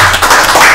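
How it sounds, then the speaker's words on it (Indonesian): An audience at an Indonesian military and government talk event breaks into a brief burst of clapping, loud and close, with dense overlapping claps filling the short moment. "Tepuk tangan semua dulu."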